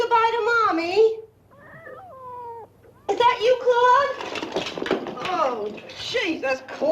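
A cat meows repeatedly, with drawn-out, wavering cries close by; a brief quieter stretch sits in the middle between the louder calls.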